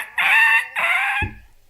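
A child imitates a rooster with a loud, close two-part crow, then a short low grunt as it ends, heard alone.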